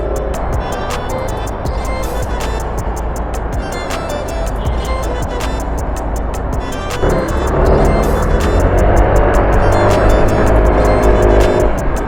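A Honda Click160 scooter engine drones steadily while riding. Wind roar is heavy throughout, and the pitch and loudness rise partway through as the throttle opens.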